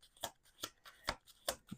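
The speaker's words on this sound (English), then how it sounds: "I'm going to do 2 more shuffles" Tarot cards are shuffled by hand in four quick, crisp riffling bursts at a steady rhythm, close and fairly quiet, with no talking.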